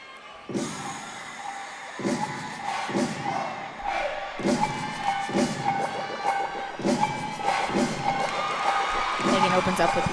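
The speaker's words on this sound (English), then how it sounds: "the crowd is starting to get a little bit warmed up here" A gymnastics arena crowd at the LSU at Florida meet builds up, with rhythmic thuds and rising cheers that swell toward the end, under steady commentator talk.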